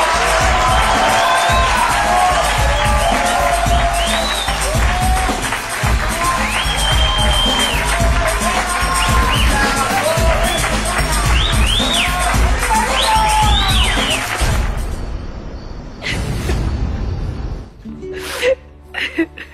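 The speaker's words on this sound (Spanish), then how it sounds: "Así que vamos a recibirlas con un fuerte aplauso." Loud, sustained studio audience noise of clapping mixed with cheers and excited voices from a telenovela, continuing steadily before fading out near the end.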